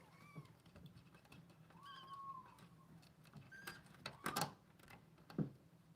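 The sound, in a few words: cat meowing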